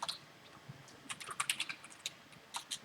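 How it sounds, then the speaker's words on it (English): Fingers type on a computer keyboard while coding a smart contract, with quick irregular bursts of light clicking close by, rising into a dense flurry midway and then easing off, with no talk. "I'll type it first and then explain."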